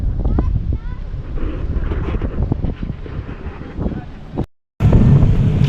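Strong wind buffets the microphone over rushing, choppy lake or river waves during heavy rain in the Philippines, loud and constant, with a voice talking in Filipino over it and a brief dropout near the end.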